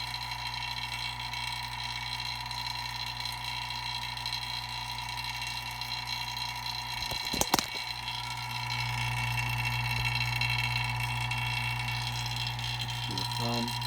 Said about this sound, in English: We're boiling water at room temperature.